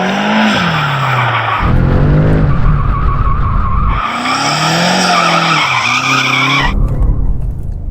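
A BMW M5 CS with all-wheel drive roars hard while its tyres squeal and skid, engine pitch rising and dropping through gear changes, loud and close throughout.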